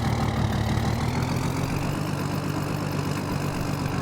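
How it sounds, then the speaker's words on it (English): Tractor engine idling steadily in a farming video game, a low, constant rumble with dense harmonic throb that stays close and even throughout, with no voices over it. "Gotta move the tractor"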